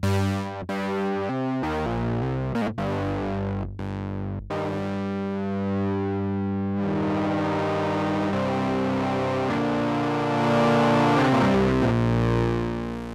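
A sustained, heavily distorted Sequential Trigon-6 synthesizer plays choppy notes that swell into a thick, buzzing wall of sound with ringing feedback.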